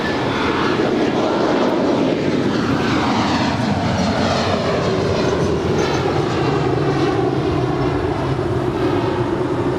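An airliner takes off from runway 25 right at Los Angeles International Airport, its jet engines roaring loudly and steadily for the whole stretch, a broad sustained rumble with a gradually shifting tone.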